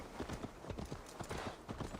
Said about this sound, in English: Horse comes barreling through the bush, like rips through you.